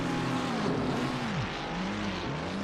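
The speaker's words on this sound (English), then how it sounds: "You can hear the anti-stall coming in there as he tries to get the car shifted and going again." Race car engine in Assetto Corsa Competizione at Paul Ricard, rising and falling in pitch as anti-stall kicks in after a hard bump, the revs sweeping up and dropping in uneven surges, loud and continuous.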